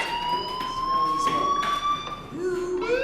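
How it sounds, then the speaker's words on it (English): A school fire alarm sounds in the video game Life Is Strange, a loud, continuous electronic tone that wavers slightly in pitch, with a voice speaking over it near the end. "Hey, do you hear that fire alarm? That means you should be outside."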